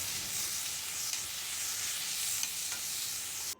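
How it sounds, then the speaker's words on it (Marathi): Tomato sautéing in a pan over low-medium heat gives a steady, even sizzle and hiss, close and continuous, with a few faint scrapes of stirring and no voices. "टोमॅटो घातला आहे परतून घ्यायचं"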